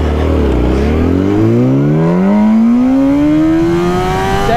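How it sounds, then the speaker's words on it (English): A 1000cc Yamaha R1 sport bike revs briefly, then launches with a loud, close engine note climbing steadily in pitch through the gear as it pulls away, with no talking. "anytime you're trying to launch a 1000, you don't have to rev it up very much"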